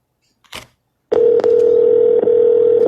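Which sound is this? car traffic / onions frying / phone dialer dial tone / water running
phone dialer dial tone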